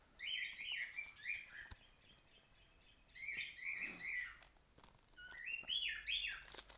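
A pet bird chirps and warbles in faint, rising and falling bursts, three short phrases separated by pauses in a quiet room.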